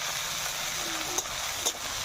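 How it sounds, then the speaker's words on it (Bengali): Chopped onions fry with cinnamon and cloves in mixed sesame and mustard oil for biryani, giving a soft, steady sizzle close by. A couple of quick spoon scrapes stand out briefly; no one talks. "ভালো করে নাড়িয়ে নেব।"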